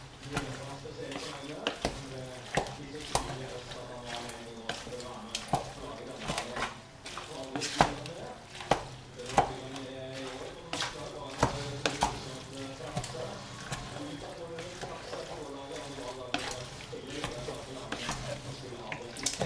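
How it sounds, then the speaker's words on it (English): Food with leek cooking in a pan is stirred, giving a steady background of scraping, clinking and sizzling kitchen noise with a voice talking over it. "just gonna stir this in, and we should be almost done"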